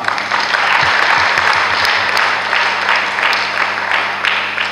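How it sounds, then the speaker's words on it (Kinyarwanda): Loud, sustained applause from a large crowd at a Diocese of Gahini church gathering, dense clapping that holds steady throughout with no pause. "mwongere mubigaragaze n'amashyi menshi cyane"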